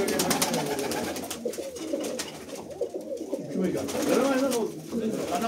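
Pigeons cooing at a household in Asaka, with soft rolling coos rising over a steady, busy background hum and faint voices throughout.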